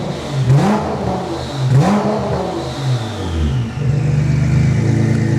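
A heavily tuned Nissan GT-R revs hard in repeated bursts, its engine climbing and dropping twice before settling into a loud, raspy high idle with audible turbo whoosh, close and alone.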